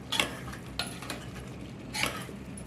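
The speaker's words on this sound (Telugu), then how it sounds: "కారం, ఉప్పు మంచిగా కలుపుకోవాలి." Spoon scraping and clinking in a pot as chili powder and salt are mixed into country chicken curry, with three brief louder scrapes standing out over a low steady background.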